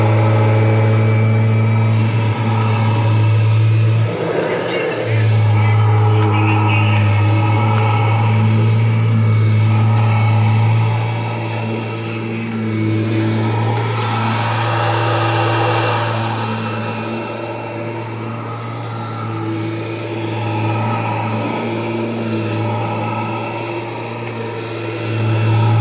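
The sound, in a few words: 1991 Kirby Generation 3 upright vacuum cleaner running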